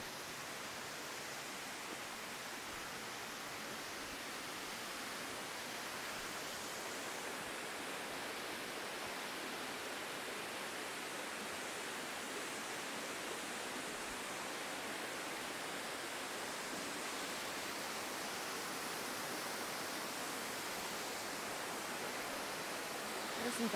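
Minnehaha Falls in North Georgia pours down at low water level, giving a constant broadband rushing roar that holds steady throughout with no other sounds.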